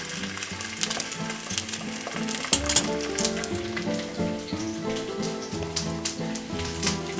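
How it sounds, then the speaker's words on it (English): Loud, continuous sizzling of chicken frying in hot oil and butter, crackling and spattering steadily with no voices. "That sizzle tells you that it was the right temperature to put it in."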